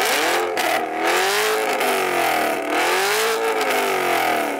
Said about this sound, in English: I'm going to rev up this Camaro.